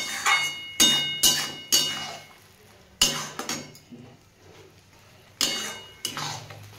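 Moringa leaf mash stirred in a pan over a gas flame, the utensil scraping and clinking against the metal in several sharp, irregular strokes with quieter sizzling between them, close by.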